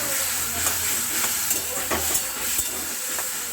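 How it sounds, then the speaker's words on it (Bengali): Spices, pointed gourd and potato sautéing in a pan, with a small splash of water added: a steady close sizzle and hiss broken by soft, periodic scrapes of stirring. "আর একটু অল্প পরিমাণে জল দেবো দিয়ে ভালোভাবে কষিয়ে নেব"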